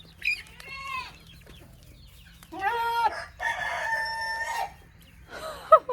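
A chicken on a small farm with goats clucks and a rooster crows, several separate calls with gaps of quiet between them, close and fairly loud.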